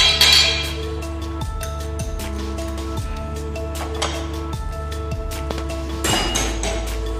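A whisk clinks steadily against a bowl as cheesecake batter is mixed with cornstarch for a Japanese cheesecake, with a regular beat over a steady background hum and no talking.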